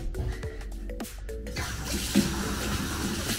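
A bathroom faucet runs fresh water for washing a tegu lizard in a tub; after a few clattering knocks and drips, the tap opens into a steady, close rushing stream that continues to the end.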